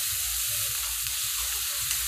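Tomatoes sauté in hot oil for a cluster bean masala gravy, a continuous close sizzle with soft stirring scrapes and no voices.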